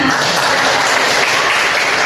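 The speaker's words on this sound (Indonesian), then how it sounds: "Tepuk tangan buat kita semua." A class in a teacher-training lesson claps together, a brief dense burst of applause at close, loud and even level.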